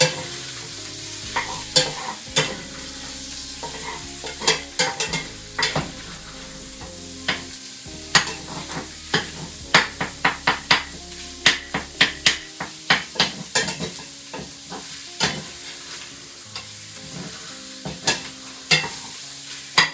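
Sausage browns in oil in a pot for Zuppa Toscana soup, with a steady sizzle under repeated sharp metallic clacks and scrapes of a utensil against the pot, close and rhythmic throughout.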